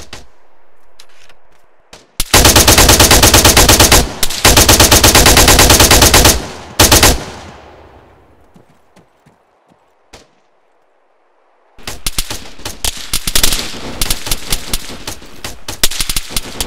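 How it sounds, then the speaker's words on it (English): Heavy incoming gunfire in the combat game Arma 3 arrives as very loud, sustained automatic bursts, falls into a few scattered cracks and near-silence, then returns as dense, rapid volleys. "that sure is a lot of fire coming our way"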